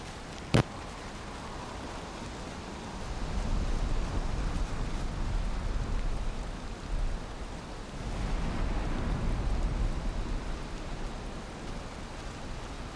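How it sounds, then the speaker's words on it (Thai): A rainstorm in the video game Valheim gives a steady, fairly faint hiss of falling rain that swells slightly midway, with one sharp click near the start. "ชัดเลยฝนพายุเข้าด้วย"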